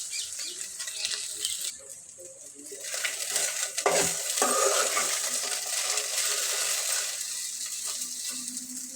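Okra fries in a pan over a flame, making a loud, continuous sizzle close up with occasional stirring scrapes, and no talking.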